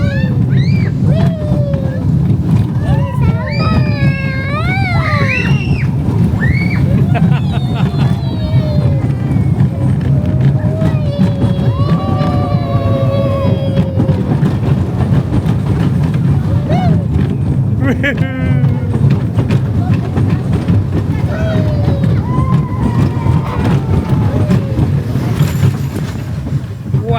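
Dragon Coaster roller coaster at Greenwood Family Park, heard from a rider's seat as a steady, loud rumble of the running train with wind buffeting, while excited voices shout and talk over it throughout.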